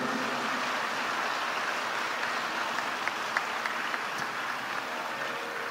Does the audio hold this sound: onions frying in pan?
no